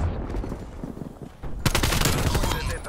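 Hostile sentry turret firing in the Black Ops Cold War video game: dense, rapid bursts of gunfire that grow sharply louder partway through and stay heavy amid busy combat noise.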